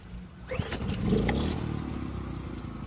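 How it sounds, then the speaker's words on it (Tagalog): A generator engine is pulled into life with its recoil starter: a quick rope-pull rasp, then the motor catches and settles into a steady, close mid-pitched running drone. "ipapakita ko po sa inyo paano po paandarin yung generator natin gamit naman po itong ating recoil start"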